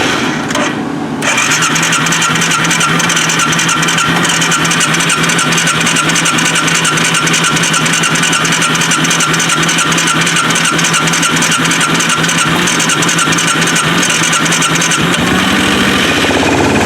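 A 2003 Arctic Cat 400i ATV engine cranking on a cold start, a loud, steady buzzing drone that holds close and unbroken for most of the clip before cutting out near the end.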